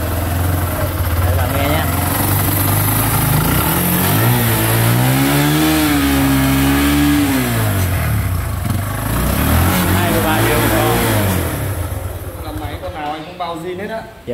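A mini moto bike engine runs after a kick start, revving loudly up and down in sweeping surges before settling, with people talking over it.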